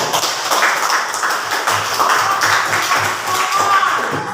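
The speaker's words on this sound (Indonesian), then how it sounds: "Tepuk tangan dulu untuk adik Firly" Children in a classroom clap their hands for a classmate, a steady patter of small claps that goes on for several seconds at moderate loudness, with faint voices in the background.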